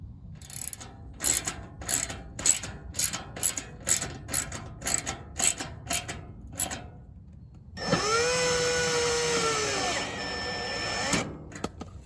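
Rivets being installed in a catalytic converter security shield on a 2007 Toyota Prius: a quick series of about a dozen sharp mechanical clicks, then a sustained whirring tool drone for a few seconds, up close with no talking.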